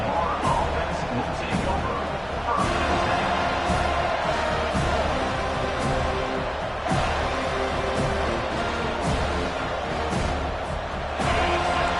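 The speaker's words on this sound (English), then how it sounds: "Listen to the crowd energy here in the early going." A football stadium crowd roars in a steady sustained wash of cheering early in a game, a tough environment for visitors, with a commentator talking over the noise throughout.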